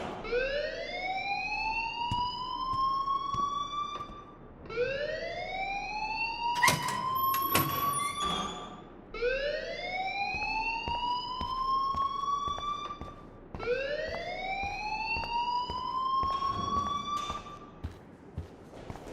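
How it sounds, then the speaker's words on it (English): A fire alarm sounds in the video game Life Is Strange, a loud electronic wail that sweeps upward in pitch over and over, four long rising cycles repeating steadily with no talking. "please turn off that alarm since that's your job"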